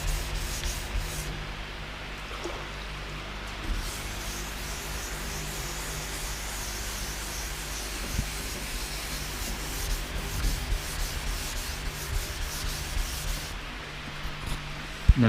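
Steady, close abrasive rubbing of 800-grit sandpaper over fresh paint during a GQ Patrol respray, a continuous soft hiss with small scratchy variations throughout, no talking.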